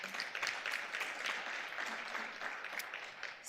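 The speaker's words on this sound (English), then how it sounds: "Can we please give him a round of applause?" Audience applause at a corporate stakeholder engagement session in Cape Town, a steady moderate patter of many hands clapping for the whole stretch, slightly distant and roomy, with no talking over it.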